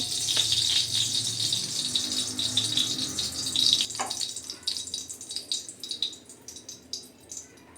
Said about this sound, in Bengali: এবার এই তেলেই ফুলকপিগুলো ভেজে নেব।